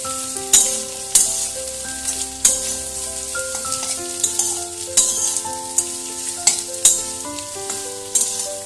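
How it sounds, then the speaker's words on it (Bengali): Chopped potatoes stirred and mixed in a frying pan, repeated sharp scrapes of a spoon against the pan over a steady sizzle, with tonal background music running throughout. "আবারও ভালোভাবে নাড়া নাড়াচাড়া করে আমি মিশিয়ে নিচ্ছি"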